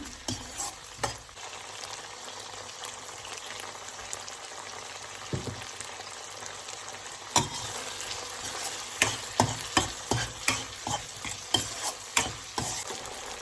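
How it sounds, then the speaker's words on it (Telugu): Tomatoes fry with salt in a pan for chicken curry. A steady sizzle runs throughout, and from about halfway a series of sharp scraping stir strokes cuts in at an irregular rhythm. No one speaks. "నేను ముందే కొంచెం కొంచెం సాల్ట్ వేసి ఫ్రై చేస్తాను"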